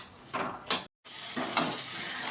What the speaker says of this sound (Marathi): तर हा कांदा आपण पहिला परतून घेऊया.